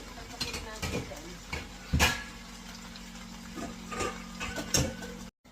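Metal lid set over a large cooking pot of mushrooms on a home stove, several clinks and scrapes of metal against metal spread through the moment, close and moderately loud, with a steady hum in the background.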